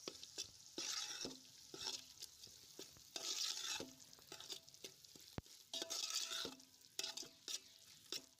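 Spoon stirring ground coriander-cumin and garam masala in a pot over a traditional wood-fired clay stove, giving repeated scraping strokes over a steady soft sizzle of frying spices, close and moderately loud with no talking.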